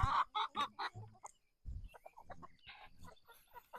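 Pastured chickens cluck and chatter close by on a homestead during morning feeding, a run of loud rhythmic clucks followed by softer, busier murmuring from several hens.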